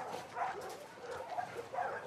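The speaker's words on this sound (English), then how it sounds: "I'm about to play with the dog." A dog in the video game The Last of Us Part 2 on PS5 gives faint, short yips and bow-wow barks in a quick series of a few calls.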